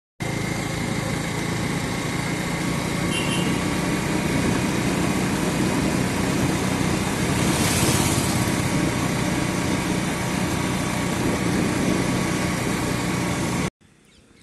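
Motorbike ride captured on a handheld phone, with steady, loud engine drone and wind rush running unbroken for about thirteen seconds before cutting off abruptly.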